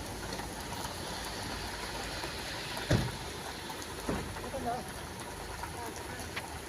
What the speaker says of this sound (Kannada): ಎಂಥದ್ದು ಮಳೆ ಇದೆ, ಜೋರು ಮಳೆ ಉಂಟು.